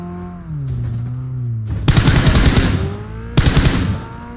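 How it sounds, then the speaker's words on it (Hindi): Automatic gunfire in the battle-royale game BGMI: two loud bursts of rapid shots, the first longer, over steady game engine and ambient noise with tonal hums. "मैंने ऐसी रैंडम शॉट मारा पेड़ पे"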